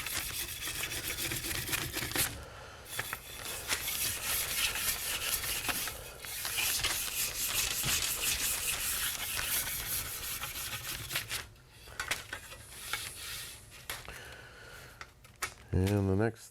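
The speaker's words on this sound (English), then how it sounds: "I'm just going to wire brush this just to get the heavy stuff out" A wire brush scrubs the vent window frame of a 1967-72 Chevy pickup, making steady close-up scratchy rasping in long strokes with brief pauses, ending with a short tonal whir.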